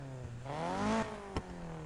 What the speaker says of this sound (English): This engine's probably gonna sound like absolute garbage.